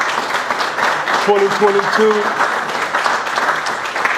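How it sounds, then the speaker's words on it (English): Audience applause at the 64th annual Men of Essex awards, a steady wash of clapping running through the whole moment while a voice speaks over it. "Let's give him a"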